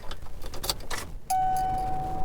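Keys jangle briefly up close on the key ring of a one-owner 1997 Ford F-250 XLT 7.3L Powerstroke diesel 4x4, a short metallic clinking burst followed by a steady tone from the truck.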